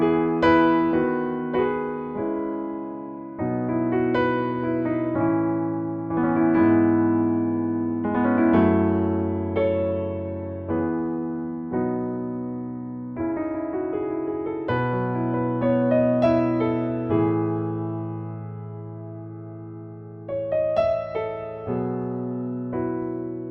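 Pianoteq 9's Kauai piano model plays a flowing passage of chords and melody, loud and close, with notes ringing and overlapping. It runs alone throughout, with no voices.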